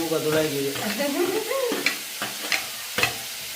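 Tomatoes and fenugreek frying in a pan, with a soft sizzle and a few sharp scraping stirs toward the end, heard after a brief stretch of a voice at the start.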